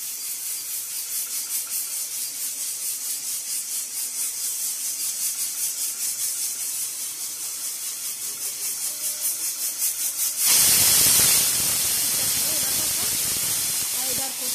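A pressure cooker cooking a Bengal gram flour ivy gourd fry hisses steadily with steam, then a louder, sharper burst of venting steam takes over near the end.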